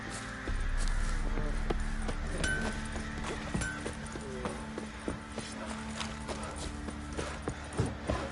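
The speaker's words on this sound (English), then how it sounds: "Run, Roach" Roach, a horse in The Witcher 3 video game, gallops with steady clip-clop hoofbeats that stay prominent throughout, heard beneath a low continuous game soundscape.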